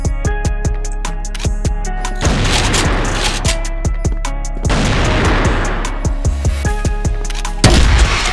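Heavy gunfire and booming blasts from a shooter video game, rapid sharp shots in bursts punctuated by two long roaring explosions, loud and close throughout.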